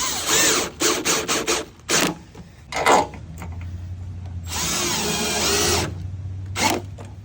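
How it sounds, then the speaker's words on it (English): A power drill drives screws into the frame of a Ranger VE storefront door, with short loud bursts of spinning followed by longer sustained whirring runs as each screw seats, close and harsh, with no voices. "Let's go ahead and run down the 2 remaining holes."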